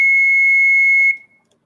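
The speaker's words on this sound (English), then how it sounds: "Each channel you can actually get to feedback by itself." Music Thing Modular graphic EQ channel driven into self-feedback, a single steady piercing tone sustained loudly for about a second, then cutting off abruptly into near silence.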